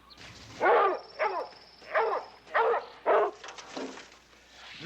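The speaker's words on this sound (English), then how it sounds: "They got the dogs out." Search dogs barking outdoors, a series of about five distinct loud barks in an uneven rhythm, close by, with a faint high whine and quiet background between them.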